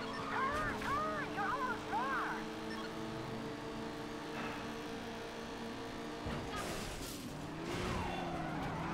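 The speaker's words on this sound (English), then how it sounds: "This car does not sound like a very V8 car" A car engine in the racing video game Midnight Club II drones and shifts pitch while tires squeal in short wavering bursts, with a player talking over it.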